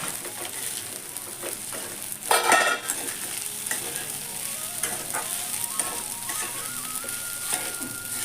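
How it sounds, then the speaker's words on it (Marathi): Sabudana khichdi with potato and green chilli is stirred in a hot pan, scraping spoon strokes over a steady sizzle, with one louder burst of scraping early on; close and alone, no voices. "आता परत आपण बटाटा मिरची मिक्स करून घेऊ आणि शाबू आपल्याला टाकून घेऊया आणि व्यवस्थित हलवून घ्यायचा आहे"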